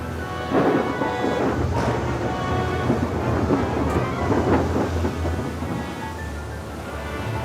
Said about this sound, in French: des torrents d'eau tombèrent, le jour et la nuit sur la terre, sans fin